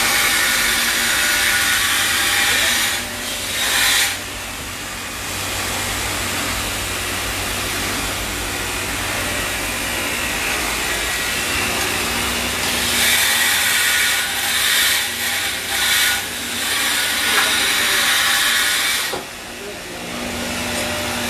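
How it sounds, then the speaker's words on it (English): Continuous whining, hissing power-tool drone while reaming out handle holes, with brief pauses and dips around the middle and end, and people talking over it. "I gotta ream them out just a little bit more."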